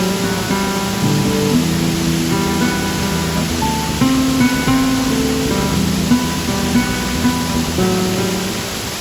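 Jhor waterfall splashes in a steady, loud, unbroken roar, with bright tonal sounds running over it throughout.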